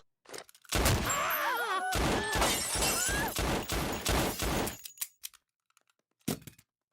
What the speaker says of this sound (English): He pulls out a gun and starts firing into the ceiling, causing a panic so he and Brian can escape